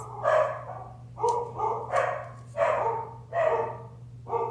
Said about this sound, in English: Excuse my dogs barking in the background.